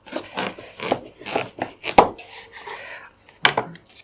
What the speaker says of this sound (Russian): Делим его на 4 части.